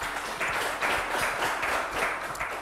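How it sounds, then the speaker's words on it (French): Studio audience applauding to welcome a contestant onto a French TV show, a dense continuous wash of many hands clapping in rhythmic pulses at a moderate, steady level. "merci de l'applaudir"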